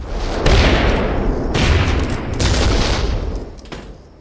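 Cartoon gunfire from ATF agents in South Park, loud bursts of rapid shots and booms arriving in several waves, close and dense with brief gaps between volleys.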